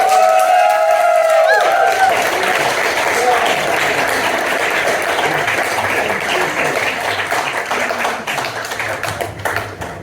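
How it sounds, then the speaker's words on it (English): Audience applause after a street poetry performance, a dense sustained patter of many hands clapping close by for about eight seconds after a spoken voice at the start, thinning slightly toward the end. "Another big round of applause!"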